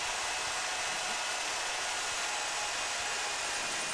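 A line boring cutter machines a Kubota dog bone link with a steady, loud broadband whirring hiss that holds constant throughout, with no talking.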